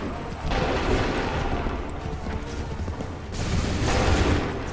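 Musket volleys fired by lines of soldiers during the Battle of Lexington in the game Assassin's Creed III. Two loud, rumbling broadband bursts of massed gunfire roll out and linger over dense battlefield noise.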